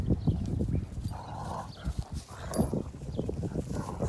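Two dogs wrestling outdoors in a yard, with scuffling, thumping paws and brief growly huffs throughout, close and fairly busy with no talk.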